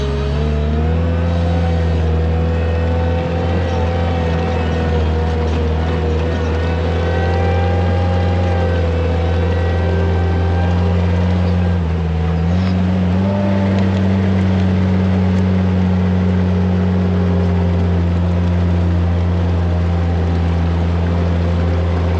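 A loud, steady tractor diesel engine drones continuously, its pitch dipping briefly midway before settling back to a constant running hum.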